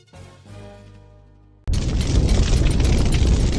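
A loud, sudden explosive boom from an impact crashes in after a quieter swelling tone, then a sustained roaring, rumbling blast that stays dense and powerful to the end.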